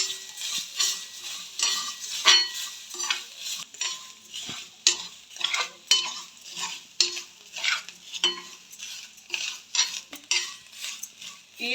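Sesame seeds roasting in a pan with repeated stirring scrapes and light crackling pops in an uneven rhythm, close and moderately loud.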